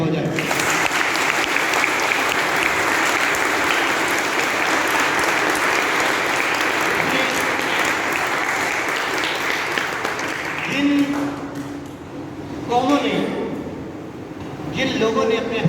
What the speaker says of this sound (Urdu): تو اپنے اساتذہ کرام کے لیے بہت زور سے کلیپنگ ہو جائے